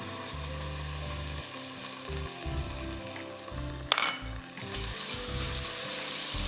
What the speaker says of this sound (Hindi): पहले ज़रा प्याज और लहसुन अच्छी तरह ये मक्खन और तेल में सौटे हो जाएं